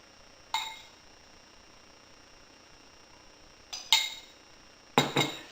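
Dishes clink faintly as white rice is served into a bowl in a quiet kitchen, with three separate light knocks and rings spread over a few seconds.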